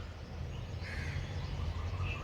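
Crows caw at an early-morning feeding spot, their calls sounding faint and mid-distance above a low, steady background rumble.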